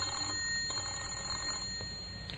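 An old-fashioned bell rings continuously inside an empty house, a steady, sustained metallic ringing at moderate volume, with no voices.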